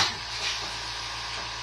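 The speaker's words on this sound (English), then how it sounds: "I don't know if you guys have ever seen or heard the Fortress air compressors." A Fortress air compressor from Harbor Freight runs steadily in the background, a constant broadband hiss and hum with a low motor drone, moderately loud and unchanging.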